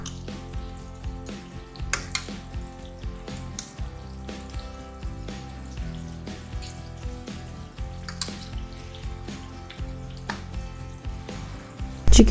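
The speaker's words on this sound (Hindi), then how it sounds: "चिकन बहुत अच्छे से फ्राई हो चुका है जैसा कि आप लोग देख रहे हैं" Chicken for Chicken 65 frying in hot oil in a pan, a steady close crackling sizzle with small pops and bubbling running throughout, a louder clatter right at the end.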